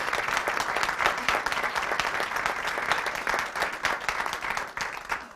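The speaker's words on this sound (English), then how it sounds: "we'd like to give her a round of applause for that" Applause rises at a school board business meeting, a sustained round of many hands clapping in a meeting room, even and moderately loud before tapering off near the end.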